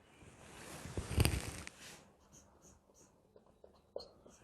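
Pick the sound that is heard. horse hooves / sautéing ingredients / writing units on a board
writing units on a board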